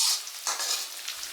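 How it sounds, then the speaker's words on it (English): Cloves, star anise, cardamom, cinnamon, garlic and shallots frying for a Sarawak laksa paste, a brief bright sizzle with soft stirring, no voices. "Step 2. Frying the dry spices."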